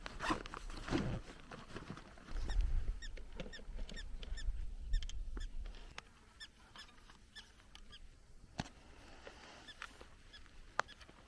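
Prairie dogs give repeated short, sharp chirping calls outdoors in calm, mild weather, scattered across the clip against a low background rumble, with no talking.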